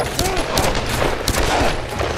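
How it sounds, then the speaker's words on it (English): Gunfire in the Tomb Raider video game, a dense stretch of rapid overlapping shots and bursts from an unclear direction, steady and moderately loud throughout. "It's gunfire, but I don't know where."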